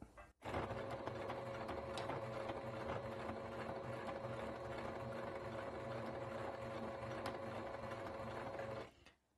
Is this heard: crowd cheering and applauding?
no